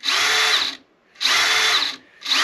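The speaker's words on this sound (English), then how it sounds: "And then you just switch back to forward motion and drill." Two loud, close bursts of a power drill spinning as it drills a fret marker hole in a guitar fretboard, each under a second, with a short quiet pause between them.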